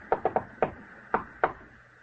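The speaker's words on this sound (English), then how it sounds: "Someone knocked, Edith. Open the door." Knocking on a door in a 1950 radio crime drama: a quick triple rap, a single knock, then two more spaced knocks, crisp and close, with no talk over them.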